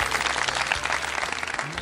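Brief burst of audience applause on a folk music TV show, a close, busy patter of clapping lasting under two seconds with faint voices underneath.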